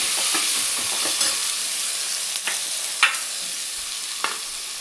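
Vegetables with garlic paste stirred in a hot pan for Telangana-style pappu charu, a continuous sizzle broken by occasional spoon scrapes and taps, close and steady.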